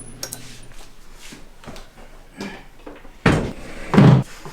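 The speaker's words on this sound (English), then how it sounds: "You need to come in, and then you need to shut the door." A door in a house swings to and shuts, starting with soft handling and small clicks and then two sharp, loud knocks as it meets the frame, close by with no talking.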